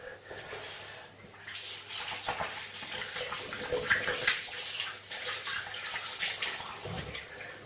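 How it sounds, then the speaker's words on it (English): Hands are rinsed under running tap water during a shave with a new razor. A steady close splashing flow fluctuates as the hands move through the stream. "Rinse my hands."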